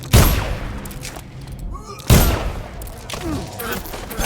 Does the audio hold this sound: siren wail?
no